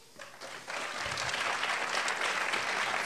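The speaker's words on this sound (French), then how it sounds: "une bonne main d'applaudissements à tous les finalistes" Audience at an annual corporate gala applauding award finalists for personality of the year, a steady wash of many hands clapping that swells after the first half second and holds, somewhat distant and soft.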